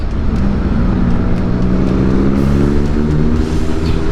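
A Kawasaki ZRX 1200 motorcycle engine revs loudly and close by, its strong, steady harmonic growl rising slightly in pitch as the throttle opens.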